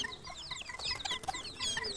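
Bantam chickens, including Japanese, Cochin and Silver Sebright types, cluck and chirp close by in a short flurry of overlapping calls with no talking.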